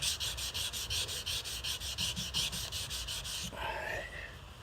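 A sanding block rubs along a knife blade in quick, even back-and-forth strokes, a close, dry scratchy rasp that stops partway, leaving a soft faint hiss.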